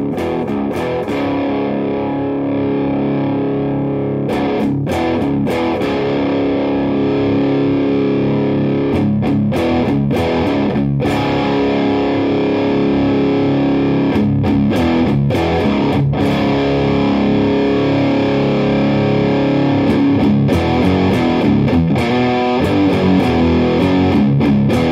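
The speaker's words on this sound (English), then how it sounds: "let's go through the gain range and see what it's got" Electric guitar played loudly through a Pastfx Revolution four-stage overdrive/distortion pedal, based on the Buffalo FX Evolution, as its gain is swept. Dense, saturated chords and riffs ring continuously, with a few brief gaps between phrases.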